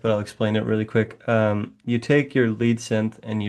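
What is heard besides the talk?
No distinct noise like a dog, phone or traffic.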